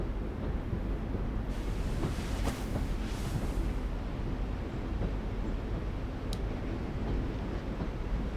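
Train in The Walking Dead video game, a continuous low rumble of rolling rail cars with faint clicking and wind-like hiss, steady throughout with no speech.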